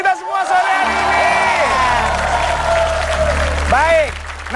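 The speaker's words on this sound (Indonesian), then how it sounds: "tepuk tangan dulu untuk kita semua sore hari ini" Studio audience applauding and cheering on an Indonesian TV game show, a steady wash of clapping with whoops lasting the whole stretch, with voices and music mixed in.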